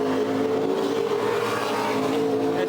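Race trucks running practice laps on the Martinsville Speedway short track, a loud continuous engine roar with steady harmonic drone throughout, no pauses, filling the whole stretch.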